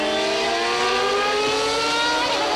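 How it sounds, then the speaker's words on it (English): Formula 1 cars at the 1994 San Marino Grand Prix lift off on the straight, a continuous loud, high-pitched engine whine with several harmonic tones gliding slowly downward as revs drop, sustained without pause. "we hear cars backing off on the straight now"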